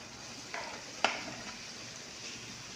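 Pork fat dropped into a hot pan, giving a soft steady sizzle with a couple of sharp crackles and pops near the start, close and fairly quiet, with no talking.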